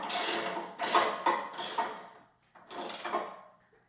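Screws being tightened on a Proform Sport 7.0 treadmill bar during assembly, with three or four close ratcheting, grinding turns separated by brief pauses.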